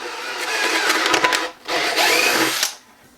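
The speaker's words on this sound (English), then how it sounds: "So then I drill a hole in here." Power drill boring a hole through a plastic bucket in two loud, close bursts of high whirring, with a short pause between them and a quick spin-down at the end.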